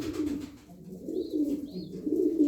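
Domestic pigeons of the Ön Perçem breed coo in low, rolling phrases that swell and fade several times, close and steady, with a couple of faint higher chirps above.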